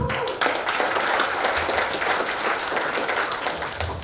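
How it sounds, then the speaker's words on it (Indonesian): Audience applauds at a handtools product launch event in Indonesia, a dense, steady round of many hands clapping throughout, fairly loud, with no talk over it. "Tepuk tangan dong."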